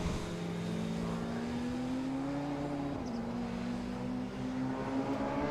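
Radical race cars lapping Silverstone circuit during a Radical Challenge Championship and SR1 Cup race, a steady engine drone holding one pitch that rises slightly, then dips around the midpoint before climbing again, at a constant moderate loudness.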